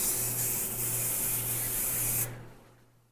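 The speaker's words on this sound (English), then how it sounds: "and then I'm gonna spray her hair from top to bottom" Hairspray hisses in a continuous close spray onto a bride's hair during Hollywood waves styling, lasting about two seconds before cutting off sharply into near silence.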